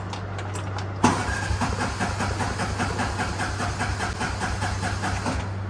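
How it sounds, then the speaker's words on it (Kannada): A motorbike engine tries to start but doesn't catch, a sudden crank that becomes a continuous rough churning rumble, close and loud, with no speech. "ಗಾಡಿ ಸ್ಟಾರ್ಟೇ ಆಗ್ತಿಲ್ಲ ಗೈಸ್"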